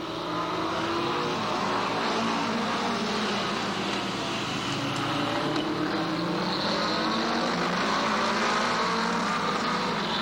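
Race cars roar around a speedway track in a dense, continuous engine howl, several cars close together at full throttle, loud and sustained throughout.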